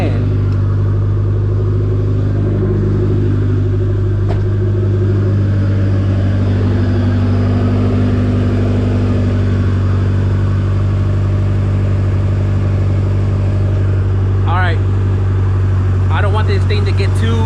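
A Honda EF2 car with a swapped B18C engine idles at its first start, a loud steady low hum with a constant rumble from close by, and a few brief higher whines near the end.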